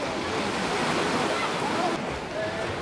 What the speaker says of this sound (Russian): Сейчас такие волны